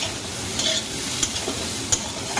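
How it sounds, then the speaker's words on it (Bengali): Fried potatoes are stirred into snake gourd frying in a pan for a fish-head curry: a steady, close sizzle broken by a few soft scraping stirs, with no talking. "এবার এর মধ্যে আমি ভেজে রাখা আলুগুলো দিয়ে দেবো।"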